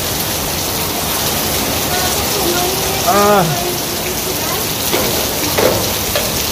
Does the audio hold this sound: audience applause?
no